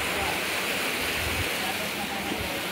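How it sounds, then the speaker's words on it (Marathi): Water rushing steadily from a small waterfall into a natural pool used for bathing, a dense continuous roar close by with no pauses. "आमची स्विमिंग पूल कसं मस्त धबधबा आहे"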